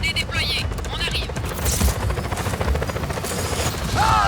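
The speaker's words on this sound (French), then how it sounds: "Hélicoptère en approche." A helicopter in the video game Just Cause 4 whirs in the game mix as it approaches, with bursts of gunfire and game radio voices talking over it.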